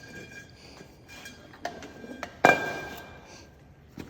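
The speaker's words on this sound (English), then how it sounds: "Let's organize these bottles in a fashion where they're easy to see." Air cylinder bottles clink against each other as they are arranged, a few light taps followed by one sharp, ringing metallic clank that fades out.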